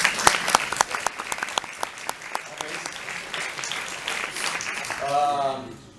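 Audience applause at a business event in Lisbon, a burst of dense clapping that swells, thins into scattered claps, then fades out.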